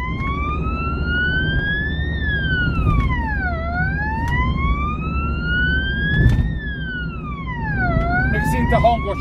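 An emergency vehicle siren wails in long rising and falling sweeps, loud and steady, as it drives through city traffic along a ring road, with engine and road noise underneath.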